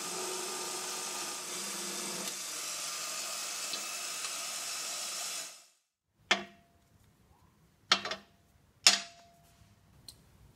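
Steel tube for a drift trike frame is cut with a power tool, a steady high-pitched whine for about five seconds that stops abruptly, followed by a few sharp metallic taps and clanks.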